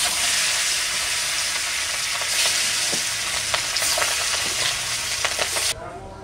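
A batch of fish sizzles in hot oil in a home pan, a dense, even crackle running for several seconds, with a few stirring clicks, before it abruptly drops off near the end.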